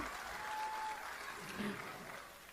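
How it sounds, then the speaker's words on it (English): Faint, sustained clapping from an audience applauding a speaker at a CUNY Law School event continues evenly throughout, heard at a distance with some voices mixed in. "you got to wait for the applause to end"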